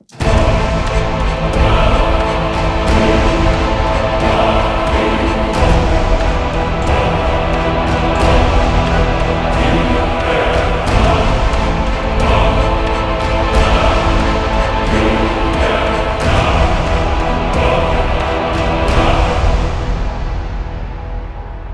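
Full orchestral music with pounding percussion that keeps building, dense and loud throughout before tapering off at the very end.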